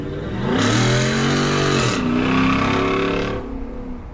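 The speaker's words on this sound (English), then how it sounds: "do one more little acceleration here." Ford SVT Raptor truck engine revving hard in two strong, loud acceleration pulls with rising pitch, a brief shift between them, and a steady engine drone trailing off at the end.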